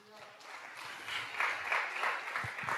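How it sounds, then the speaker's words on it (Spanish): A church congregation at a Sunday service breaks into applause that swells and continues, mixed with voices. "Podemos darle palmas a ese rey bueno."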